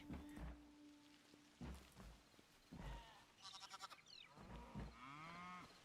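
Sheep bleat in the farming video game Hytale, several wavering bleats spread over a few seconds among thumping footsteps and soft rain-like ambient noise, with no talking.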